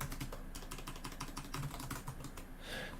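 Fast, steady typing on a computer keyboard at a desk, a dense run of close crisp key clicks with uneven rhythm continuing throughout.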